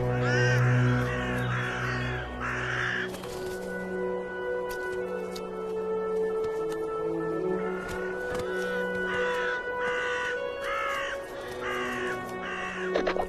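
Several crows caw repeatedly among other birds in the wild, their harsh calls coming in bursts over a steady outdoor background, with no talking.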